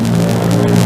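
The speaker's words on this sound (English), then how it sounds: "The jet engines are cut in for extra boost, but even so, it takes a long run to get off with a full load of bombs." Convair B-36 Peacemaker strategic bomber with piston and jet engines at full power on its takeoff roll under a full bomb load, a loud steady droning roar with a strong low hum, continuous and close.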